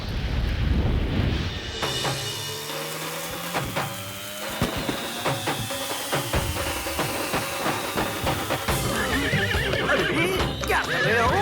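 A cartoon horse gives a loud, shrill neigh over rapid clip-clop galloping hooves, with bangs and crackling noise of firecrackers mixed into the busy animated soundtrack.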